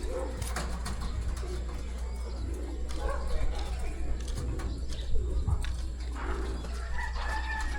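Pigeons cooing softly at a distance outdoors, with faint bird calls over a steady low background hum and no clear wing flaps.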